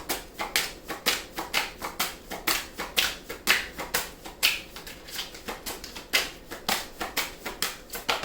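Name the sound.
drawing and handling tarot cards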